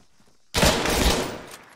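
A sudden loud burst of rapid automatic gunfire in the military shooter ArmA 3, erupting after a brief quiet and rolling on for about a second before tailing off.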